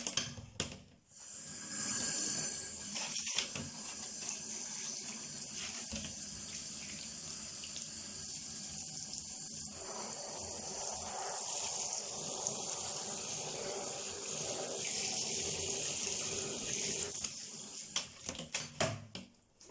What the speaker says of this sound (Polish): Teraz polewam to wszystko ciepłą wodą.